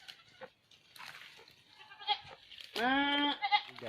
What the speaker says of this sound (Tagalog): nagtatawag kami ng kambing